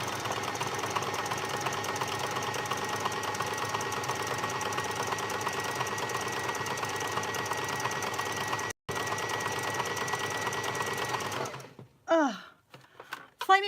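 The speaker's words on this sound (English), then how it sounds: "Come on, sewing machine. Why aren't you playing?" A treadle sewing machine runs steadily at close range with a continuous mechanical whir and rattle, breaking off for a split second near the middle, then stopping near the end, where a few brief voiced sounds follow.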